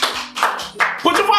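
Several people clap hands in a short burst of applause, close by, with a voice talking over the claps.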